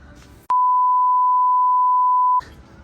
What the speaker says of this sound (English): I'm gonna have to beep that all out